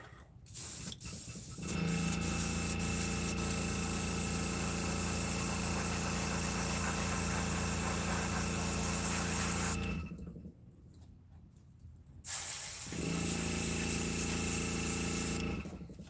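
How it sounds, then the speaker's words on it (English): Spray gun hissing as paint is applied to handmade wooden fishing baits, a steady loud compressor-driven spray running for several seconds, stopping briefly, then starting again. "I'd rather it spray out slow and be thick than come out slow, or I mean thin with the reducer."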